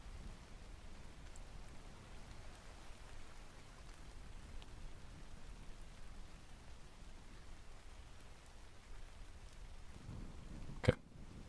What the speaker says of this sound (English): rain sounds